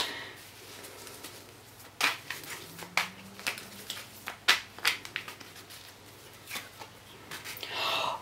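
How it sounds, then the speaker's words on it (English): Tarot cards being shuffled in a series of quick, crisp riffling bursts with short pauses between, close up and fairly quiet, with no talking. "Now I'm getting a bit more shuffling."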